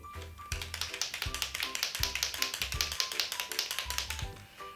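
Rapid rattling clicks of a Pintor paint marker being shaken vigorously, its mixing ball knocking inside in a quick, even rhythm for several seconds, close and crisp.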